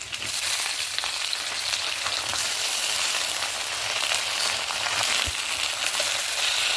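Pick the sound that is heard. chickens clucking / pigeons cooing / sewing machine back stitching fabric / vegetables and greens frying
vegetables and greens frying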